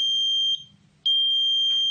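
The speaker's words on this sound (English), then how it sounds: "the buzzer beeps here" Buzzer on an alcohol detection car-stop system sounding a loud continuous high electronic tone that cuts out briefly and then resumes, with faint low hum underneath.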